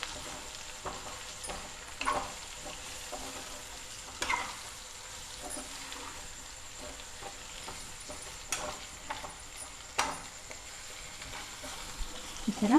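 Ground coriander seed powder with cloves and cinnamon being fried and stirred in a pan for pepper chicken fry, giving a faint steady sizzle with soft scraping stirs every few seconds, no talk.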